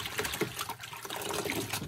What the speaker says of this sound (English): So I'm just going to put these two in this bucket and rinse them